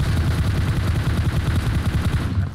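Rapid automatic gunfire in the mobile battle royale game PUBG Mobile, loud, close bursts rattling continuously throughout, with no talking.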